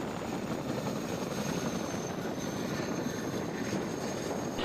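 A Chinook helicopter's engines run continuously with a loud, steady roar and whine, constant in level and close by, with no talk.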